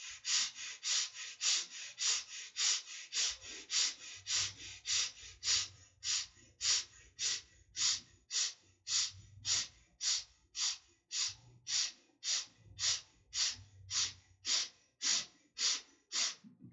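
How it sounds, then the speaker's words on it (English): Short, quick breaths drawn sharply in through the nostrils during a guided breathing exercise, a steady train of soft sniffing puffs repeating roughly twice per second, close and alone. "gently the short breath through the nostrils into the rib cage"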